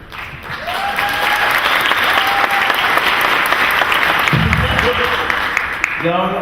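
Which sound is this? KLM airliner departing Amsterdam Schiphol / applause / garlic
applause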